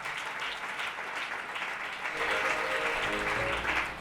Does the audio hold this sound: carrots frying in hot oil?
no